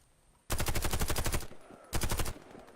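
Automatic weapon fire in the Warface online shooter game: a loud rapid burst of about a second, a pause, then a second shorter burst, close and up front with no talk.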